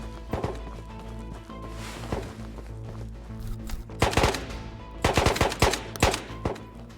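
Gunfire in a VR tactical shooter video game: bursts of rapid shots, loud and close, with shorter volleys and single cracks spread across the stretch.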